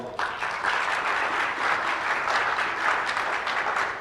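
An audience at a teachers' Jeopardy trivia challenge breaks into sustained applause, a dense, even wash of clapping from a sizeable crowd that holds steady for several seconds without speech.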